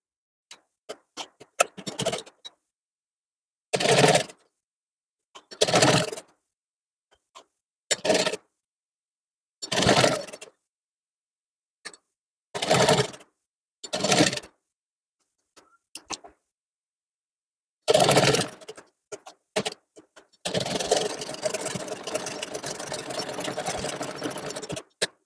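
A sewing machine stitches lace onto a lehenga in short separate bursts of rapid clatter with pauses between, ending in a longer continuous run, close and clear with no talking.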